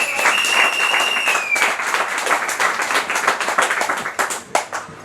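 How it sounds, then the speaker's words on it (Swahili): An audience at a football club event applauds, a dense burst of many hands clapping together, loud and close, tapering slightly toward the end. "Kwa kweli nilikuwa naomba mumpigie makofi sana kwa kazi amefanya"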